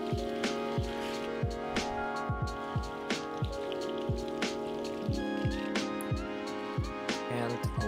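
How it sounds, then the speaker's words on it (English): Lampshades being rinsed under cold water give off a steady series of splashes and drips in a regular rhythm, fairly quiet, with a sustained tonal background underneath. "Now I'm rinsing lampshades with cold water."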